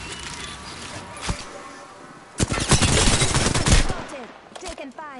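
Video game gunfire in a shooter match, with sustained automatic bursts and scattered single shots, loud and dense, rising into a heavy continuous barrage midway.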